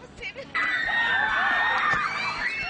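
Fans of a singer scream as he arrives in the rain, a sudden high-pitched wall of crowd shrieking that bursts in after a brief murmur and holds loudly to the end.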